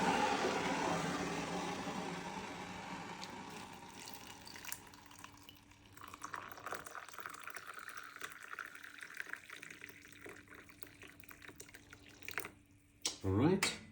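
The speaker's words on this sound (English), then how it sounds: "this is preparing tea with the Jensen Water Kettle" Hot water pours from a Jacobs Jensen water kettle to make green tea, starting as a loud, full stream that thins and tapers off, followed by scattered drips and small clinks.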